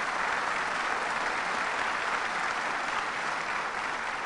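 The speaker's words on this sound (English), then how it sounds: "Let's give her a round of applause." Sustained audience applause at a ceremony celebrating renovations at Rochester's ROC airport; dense, even clapping holds steady from start to finish with no voices over it.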